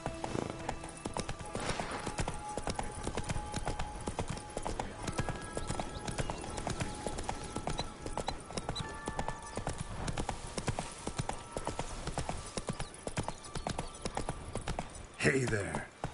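Roach, a horse in a video game, gallops with a steady, rapid clip-clop of hooves that runs throughout, with game sounds and a voice over it and a brief louder burst near the end.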